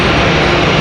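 Airbus A319 jet airliner passing over at Raleigh-Durham International Airport, a steady, loud broadband engine roar held through the whole brief moment.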